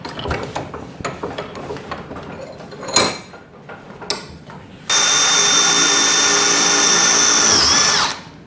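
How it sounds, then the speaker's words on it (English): A power drill fitted in a drill jig bores a hole through a gearbox spacer, with a sharp whine holding steady for about three seconds and then winding down. Short clicks and mechanical taps come before it. "we can use the right size drill bit to drill this hole through"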